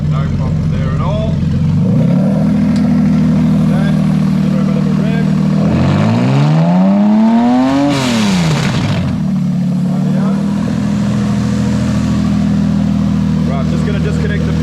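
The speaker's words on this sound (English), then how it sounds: "Bring it down so it idles nicely." A Toyota JZ engine, run through a modular engine harness on an ECUMaster Black ECU, idles steadily with a brief blip of revs rising and falling in the middle before it settles back to a smooth idle.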